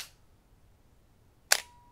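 A K-mount SLR camera fires its mechanical shutter at the 1/100 flash-sync speed, giving a single sharp, crisp click after a near-silent pause.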